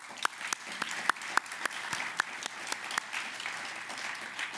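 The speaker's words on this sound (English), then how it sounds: "Please join me in a round of applause" Scattered applause from an awards ceremony audience, sparse individual claps standing out sharply in a loose, uneven rhythm over a soft wash of clapping.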